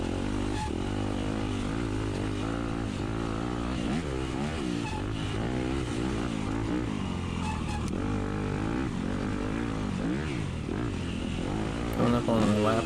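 A 250A-class dirt bike engine at a hill climb trail race, heard continuously and loud at close range for the whole stretch, its note climbing and falling with throttle changes and revs.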